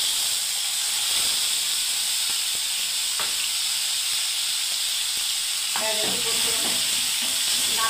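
A paste of tomato, onion and ginger fries in a hot pan with a steady hiss and sizzle while it is stirred, with a few scraping clinks of the spoon against the pan near the end.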